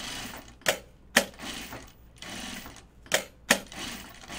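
A domestic sewing machine stitches through several lined-up fabric layers of a pocket bucket, giving a few sharp, close mechanical clacks at uneven intervals over a steady low hum.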